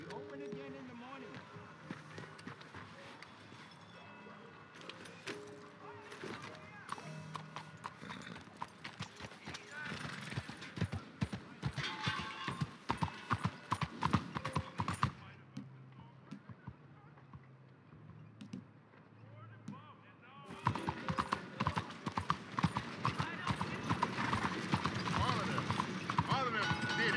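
Horse hooves clip-clop in the Western open-world game Red Dead Redemption 2, a rhythmic run of hoofbeats that grows denser and louder at times, with a voice speaking over parts of it.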